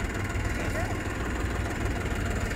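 A Mahindra 265 DI XP Plus tractor engine runs steadily at about 1700 RPM in low gear, a loud continuous diesel drone with a low rumble that holds even throughout, no voices over it.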